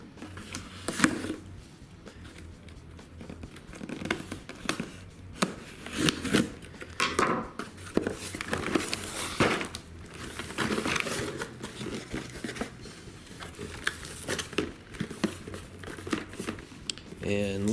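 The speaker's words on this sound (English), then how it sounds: "We're going to cut the seal." A sealed 2016 Hot Wheels International Q case is slit open and the cardboard pulled apart, giving close crinkling, scraping and tearing noises with soft knocks, while a person talks throughout.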